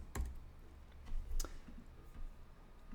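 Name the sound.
typing code on a computer keyboard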